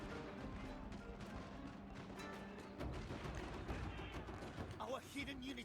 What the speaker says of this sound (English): we got Matchlock Samurai opening fire